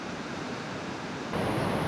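Water rushing at Natural Bridge Falls, a sandstone falls in the woods, heard as a steady, full hiss of flowing water that swells slightly louder partway through, with no voices.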